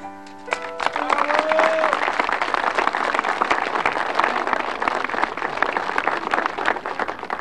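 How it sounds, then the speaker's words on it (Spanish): Audience applause at a public event in Cochabamba marking the handover of a housing project: a dense, sustained crowd clapping that swells quickly after a brief tone and stays loud and steady throughout. "Fuerte los aplausos, por favor"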